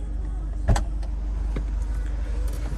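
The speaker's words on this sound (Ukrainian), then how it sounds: "Мотор робить рівно" A 1996 Toyota RAV4 engine idles steadily nearby with a low, even rumble, broken by a couple of faint clicks.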